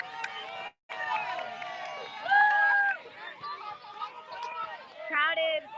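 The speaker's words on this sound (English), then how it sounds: "crowd is chanting 4 more years now, 4 more years" A crowd chants at a rally during President Trump's visit to Sacramento, a loud, rhythmic mass of voices that rises and falls while a nearby speaker talks over it.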